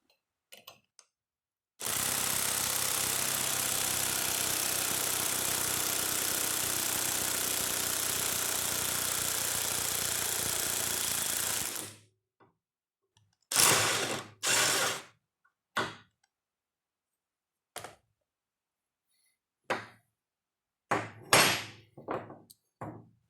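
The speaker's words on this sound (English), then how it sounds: "So now we can just hit it with the impact and push it right on through." An impact wrench drives a U-joint cap through its yoke in one long, steady, loud burst of about ten seconds, followed by several short sharp bursts with silent gaps between them.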